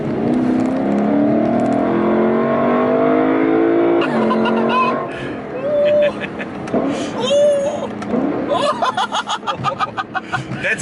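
A Lexus LC500 engine revving loudly and close, a sustained rising roar that breaks into sharp bursts and a stuttering, crackling run of pulses near the end, with a voice talking over parts of it.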